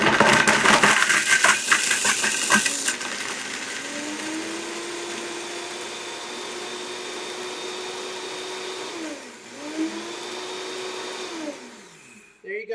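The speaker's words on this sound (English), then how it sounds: "And that is a Vitamix." A Vitamix blender pulverizing chunks of Parmesan cheese: loud rattling grind at first, then a steady high whine that dips and recovers once before stopping, with voices talking over it.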